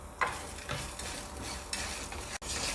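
Chana dal and urad dal roasting in a pan with fenugreek for Kerala sambar, a soft continuous sizzle with occasional stirring scrapes and light clinks, no talking.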